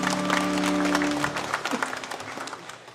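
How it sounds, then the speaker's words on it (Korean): A church congregation claps at a Sunday worship service, a short burst of applause that fades over a few seconds after lingering sustained tones. "우리 주님께 영광의 박수 올리겠습니다."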